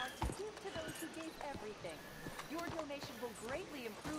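A horse's hooves clop at a slow walking pace in the video game Red Dead Redemption 2, soft and irregular beneath someone talking throughout.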